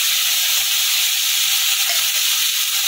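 Ground spices and tomato sizzling in hot oil in a frying pan with fried potatoes, a steady close hiss of frying with no voices.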